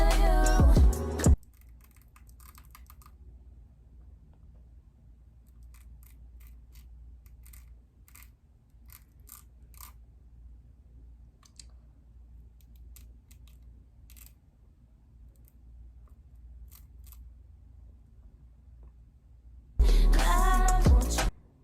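Scissors snip through the lace of a 32-inch wig in a steady run of small, crisp clicks, fairly faint over a quiet room hum, with louder handling noise at the start and end.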